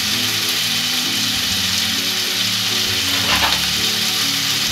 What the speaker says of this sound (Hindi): इसलिए मैं इसी में इसको अभी थोड़ी देर के लिए इनको ऐसे ही चलाऊँगी और फिर ढक दूँगी